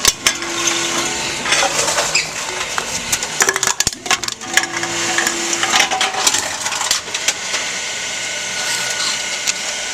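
An old Tomra TX2 reverse vending machine at a Stop & Shop in Deer Park, NY runs loudly and continuously, clattering and crunching containers with sharp knocks and rattles over a mechanical drone.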